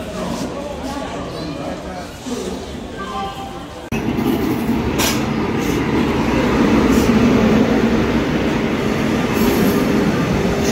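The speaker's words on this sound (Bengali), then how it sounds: "সাত নম্বর প্ল্যাটফর্মে ঢুকলো অমৃতসর জয়নগর হামসফর স্পেশাল এক্সপ্রেস।" Amritsar Jaynagar Humsafar Special Express pulling into a station platform, a steady loud rumble of wheels and cars with occasional squeals, swelling after a quieter start, with people talking in the background.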